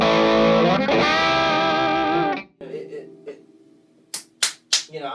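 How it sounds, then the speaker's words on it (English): A Paisley Drive guitar pedal set to a distortion-like overdrive, with a loud sustained chord ringing for over two seconds, then choppy quieter notes and a few sharp slaps or hits near the end. "What's amazing about the Paisley Drive, it's almost a distortion"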